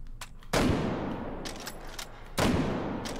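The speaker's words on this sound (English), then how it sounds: "So if we put a couple of shots down range." Gunshots fired down range at a target on a shooting range, two loud sharp reports about two seconds apart, each with a rolling decay and a few fainter distant shots in between.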